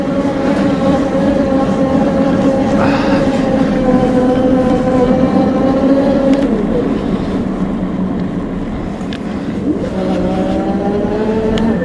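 Super73 Z1 electric bike motor running steadily on a ride, a sustained whine whose pitch holds, dips and shifts with speed, close and fairly loud over road and wind noise.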